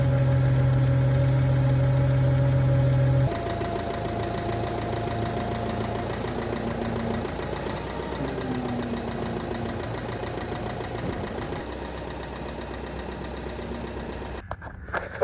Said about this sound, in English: I'm gonna load this thing up on the roll-off truck